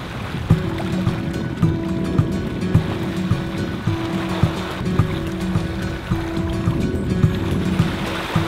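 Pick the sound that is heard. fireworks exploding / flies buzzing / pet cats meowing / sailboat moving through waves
sailboat moving through waves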